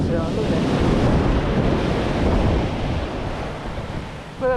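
Ocean waves rush and wash up the shore in a steady, loud roar, mixed with gusty wind buffeting the microphone.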